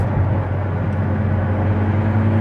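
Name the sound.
Ford GT driving with 7-speed dual-clutch automatic transmission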